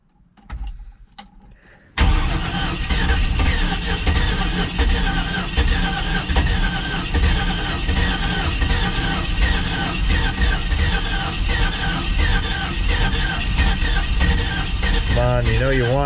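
A rebuilt truck engine: a few faint clicks while the key is cycled, then it cranks and fires abruptly and settles into a loud, steady idle up close to the end.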